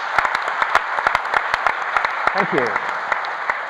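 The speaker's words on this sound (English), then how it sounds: "If we could please have a quick round of applause for them" Audience applause for a pair of cellists at a talk event, a steady wash of many hands clapping with sharp individual claps standing out, while a voice briefly speaks over it near the end.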